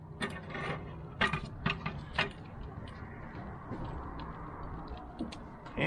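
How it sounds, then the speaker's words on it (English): A metal heat deflector plate is set into a grill over hickory, giving several sharp metallic clanks and rattles in the first half, then quieter scraping and shuffling. "Get the heat deflector in."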